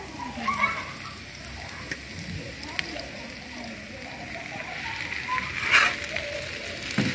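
Shredded parotta pieces sizzle and crackle softly in a pan over a wood-fired rocket stove for kothu parotta, with light scraping and a voice talking faintly nearby.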